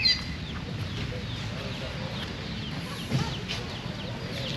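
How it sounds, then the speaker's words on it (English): A mother hen with about ten baby chicks makes soft, low clucks outdoors at John Watling's in Nassau, while the chicks add scattered high peeps over faint background ambience. "I don't want to disturb Mama and her baby chickens."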